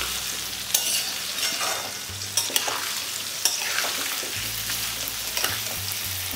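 Sun-dried mixed vegetables for pickle frying in a pan, a steady sizzle with repeated scraping stirs and a few sharp clatters of the spoon, a low hum coming and going beneath, no speech.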